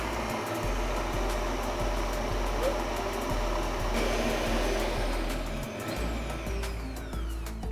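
An electric mixer beats gingerbread batter in a bowl as eggs are added, producing a loud, steady motor whir close by with slight shifts in pitch and no speech.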